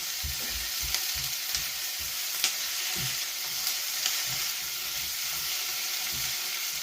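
Chili and tomato frying in a pan for a Goan egg masala curry, giving a steady close hiss and sizzle with soft rhythmic stirring scrapes and occasional light taps.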